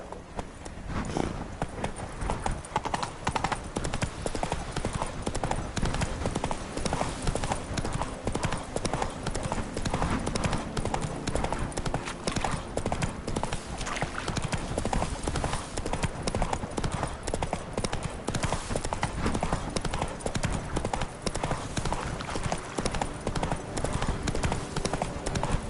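Roach the horse gallops in The Witcher 3: Blood and Wine: a fast, continuous clip-clop of hooves, loud and close, holding steady for the whole stretch with no talking.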